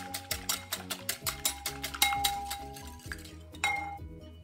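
A whisk or spoon clinks rhythmically against a bowl while milk is mixed into batter for fried pineapple with an ice-cream filling. The ringing metallic taps are close and fairly quiet, quick and steady at first, then a few louder knocks and slower strokes.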